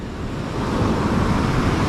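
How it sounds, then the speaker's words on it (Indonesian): Surf on a hidden, natural white-sand beach at Seruni, Pacitan, on Java's south coast, rolls as a steady broadband wash that swells slightly louder partway through, with no voices. "dan emang karakter ombak pantai selatan ya"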